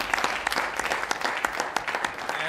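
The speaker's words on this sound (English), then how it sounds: "let's join me with a warm applause for our speakers." Warm applause from a conference audience for the speakers of an opening session, a steady dense patter of many hands clapping close by, sustained without a break.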